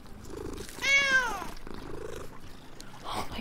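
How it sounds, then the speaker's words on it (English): A cat in the video game Danse Macabre 7: Florentine Elegy gives a short meow, followed by soft, low purring, close and gentle. "Oh my god, it purrs too!"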